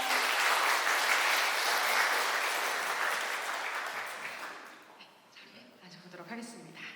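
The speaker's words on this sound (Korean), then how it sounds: "여러분 큰 박수 부탁드립니다." Loud, dense audience applause at a talk concert welcomes a field reporter onto the stage, a broad wash of clapping that holds for about four seconds and then fades as a voice begins speaking.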